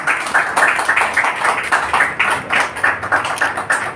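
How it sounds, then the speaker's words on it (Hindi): Loud, dense applause from an audience at an honouring ceremony for a journalist's birth anniversary, steady and continuous with no voices over it. "एक बार जोरदार तालियां पुनः मिलने के लिए।"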